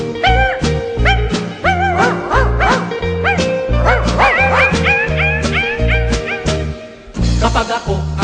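A voice imitates a dog barking in a rhythmic, song-like run of yips and woofs, set over a steady musical backing with a low beat.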